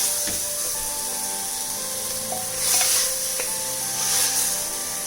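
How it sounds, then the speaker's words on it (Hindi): Madhubani-style mutton curry fries in a pan on a medium flame, giving a steady close sizzle and hiss with occasional soft scrapes as it is stirred. No one speaks. "तो इसी तरह से भूनेंगे 5-7 मिनट, बीच बीच में चलाते रहेंगे"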